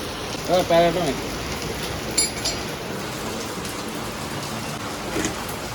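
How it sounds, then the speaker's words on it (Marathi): Heavy rain pours in a constant hiss, with a short burst of voice early on and a brief clink partway through. "दोन दिवस पाऊस नव्हता आजच कुठून पाऊस आला एवढा"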